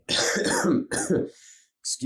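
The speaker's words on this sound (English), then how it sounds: "excuse the coughing" A few harsh, close coughs in quick succession, loud and throaty, followed by a brief quieter breathy sound.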